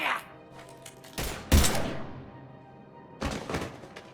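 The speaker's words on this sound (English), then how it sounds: "Now open fire!" Gunfire in the video game Mass Effect Legendary Edition, a few heavy broadband shots near 1.2, 1.6 and 3.3 seconds with a low ambient bed and some background speech.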